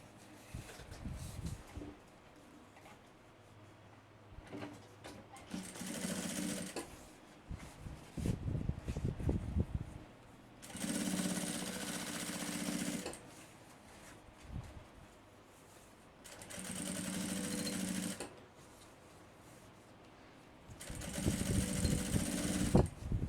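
Sewing machine topstitching the lining of a backpack with a front pocket, running in four separate bursts of a few seconds each with quiet handling of fabric in between.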